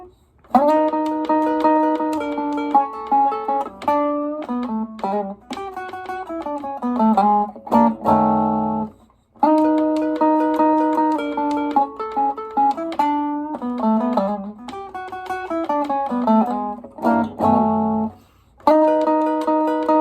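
Slow blues turnaround on an electric guitar in an early Chicago blues style, with sustained bent notes and descending phrases played alone, steady and fairly loud, with brief pauses between phrases.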